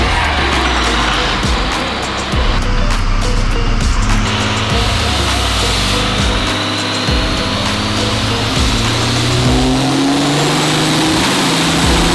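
A Cummins-powered Ford Ranger with twin turbos and nitrous runs loud and constant on a dyno, its engine roaring and revving while the turbos add a rising whine.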